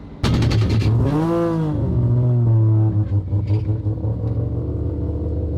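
Car fitted with a race transmission idling and rumbling through its exhaust on the street, with a deep steady drone and a revving swell early on, loud and close, tapering into rougher low rumble.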